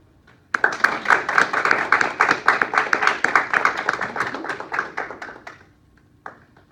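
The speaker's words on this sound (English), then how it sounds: "And your job is to keep clapping until they're done." A group in a vocal class claps their hands in a brisk, steady rhythm for about five seconds, close and fairly loud, then stops, followed by a single lone clap a moment later.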